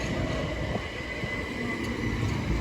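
Southeastern Class 465 electric train at Lee station, a close steady rumble of rolling stock with a faint electric whine, continuous and fairly loud without speech.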